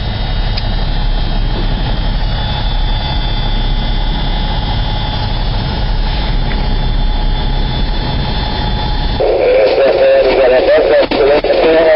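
A truck engine drones steadily and loudly in muddy off-road terrain at Mount Aberdeen, then its tone shifts and grows strained near the end as the clutch is let out.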